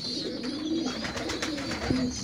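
Pigeon squabs coo softly and repeatedly during group feeding, with low murmuring calls close by and a faint ambient hum beneath.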